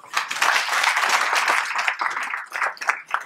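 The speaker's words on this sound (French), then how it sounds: "que je vous demande d'applaudir" Audience applause welcoming a guest at an entrepreneurship event in Senegal, a dense, sustained clapping that thins into scattered claps toward the end.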